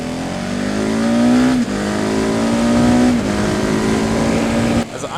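A 2016 Husqvarna 701 Supermoto single-cylinder engine with its standard exhaust drones loudly at steady road speed, rising in pitch through the gears with brief dips at each shift, heard close up with wind rush.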